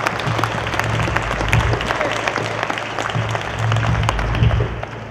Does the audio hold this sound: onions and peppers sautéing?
no